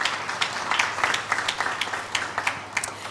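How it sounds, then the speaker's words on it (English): A crowd of guests at a business women awards event gives a dense round of applause, with many hands clapping in steady overlapping bursts that carry on throughout. "You can give them all a round of applause."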